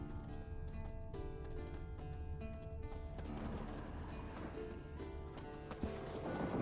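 Hooves of the warhorse Scorpion in The Witcher 3 clip-clop in a steady rhythm throughout, with game music playing underneath.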